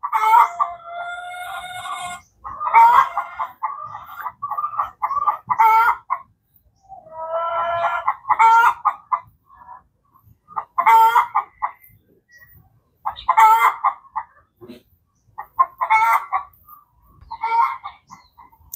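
Chickens and a duck feeding on grass together, giving repeated loud clucks and squawks in short bursts with brief pauses, close by and without talk.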